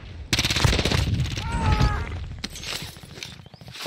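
Video game gunfire from a battle royale match, with rapid bursts of shots and a dense, loud clatter over roughly four seconds, mixed with other game noise and a brief tonal effect.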